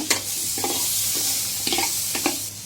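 Diced tomato cubes tipped into a hot pan for a lentil and drumstick curry, giving a steady sizzle with a few short scraping stirs spaced through the clip.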